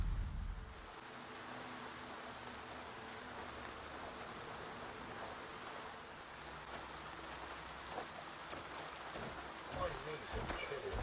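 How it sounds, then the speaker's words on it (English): Steady rain falls in the Stalker 2 game world, a broad, even hiss that holds throughout with a deep rumble at the start and a few louder patters near the end. "They like to predict rain as it's already raining."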